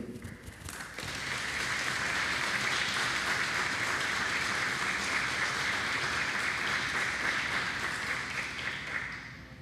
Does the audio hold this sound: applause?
yes